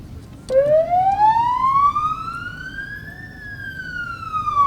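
An ambulance siren wails loudly and close as the vehicle leaves its station, a single long tone sweeping upward and then beginning to fall, over low street noise.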